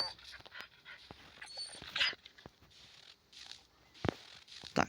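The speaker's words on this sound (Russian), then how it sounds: "И тут у нас собака." A dog in the video game Metel whimpers, yips and pants in soft, intermittent bursts, quiet and close, mixed with scattered clicks and brief rustles.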